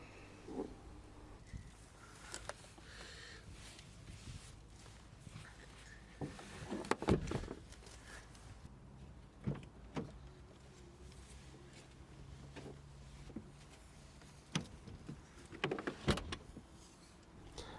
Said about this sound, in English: Let's fold down the 40-60 ratio seats by pushing this button here.